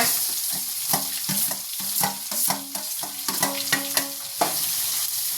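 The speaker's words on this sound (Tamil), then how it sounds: "நல்லா செவக்க வறுத்துக்கலாங்க. உளுத்தப்பருப்பை, வெங்காயம் போட்டுக்கலாங்க," Urad dal and onions fry in a pan with a steady sizzle, punctuated by rhythmic scraping and tapping of a spoon stirring against the metal, close up.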